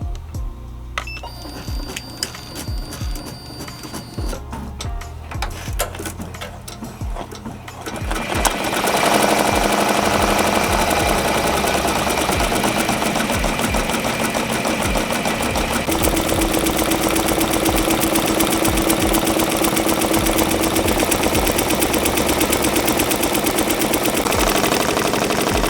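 A Ricoma MT-1501 embroidery machine stitches 3D embroidery over foam, first with sparse clicking and tapping, then a loud, continuous rapid rattle of needle strokes that holds steady to the end.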